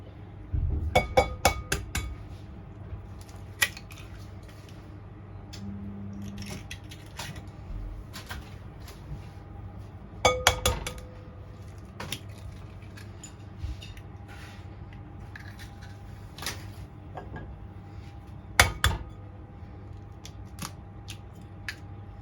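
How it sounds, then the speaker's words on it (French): Eggs cracked into a mixing bowl for a chocolate fondant batter: scattered sharp taps and clinks of shell against the bowl rim in a few separate bursts, with quiet kitchen hum between them. "on prend un autre saladier, on va casser les œufs"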